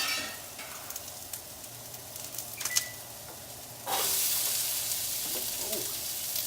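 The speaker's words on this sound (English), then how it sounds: "to a hot paella pan, we're gonna go ahead and add our aromatics" Aromatics hit a hot paella pan for a vegan brown rice paella, starting as a faint crackle, then bursting into a loud, steady sizzle and hiss about halfway through that continues to the end.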